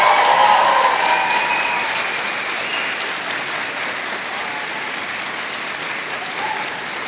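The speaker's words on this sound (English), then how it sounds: "I would like you to give a round of applause and a thank you to your support team that's here today" Audience at a university convocation ceremony applauding the graduates' support team, a steady wash of many hands clapping that starts strong and gradually thins over several seconds.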